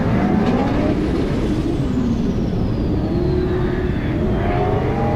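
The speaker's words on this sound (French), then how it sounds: "Et la finish line pour la BMW E82, la M de Kevin Josou" A BMW E82 M drift car at a French drift competition holds a loud, sustained engine roar that sweeps up and down in pitch across the run, steady and close with no talk over it.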